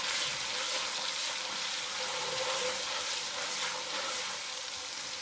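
Korma kabab mixture fries in a pan with a dense, steady sizzle, close and continuous for the whole stretch, no voices over it.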